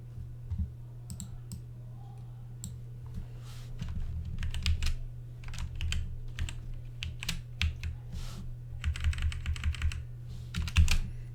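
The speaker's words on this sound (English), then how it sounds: "I've got to type this in properly" Typing on a computer keyboard, quick irregular bursts of key clicks close by that grow busier toward the end, over a steady low hum.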